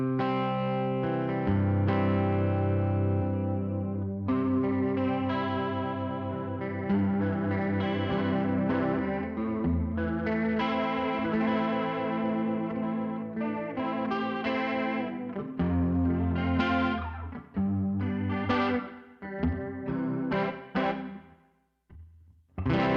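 Electric guitar played through Line 6 HX Stomp Tweed preset snapshots, with shimmering chorus-laden sustained chords and melodic lines, close and continuous, switching between tones before tapering into a few sparse plucked notes.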